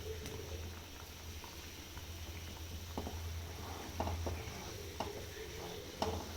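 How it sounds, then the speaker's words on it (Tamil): Eggplant tamarind kuzhambu simmers and bubbles in a pan, a steady low burble with occasional soft pops and stirring clicks, close and moderately quiet with no talking. "இப்போது நல்லா கொதி வந்துடுச்சு."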